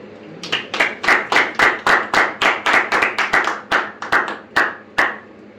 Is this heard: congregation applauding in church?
yes